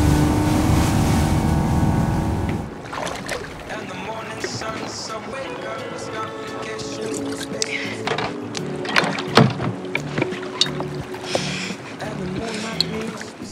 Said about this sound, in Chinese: 乘坐摩托艇来到海中间约会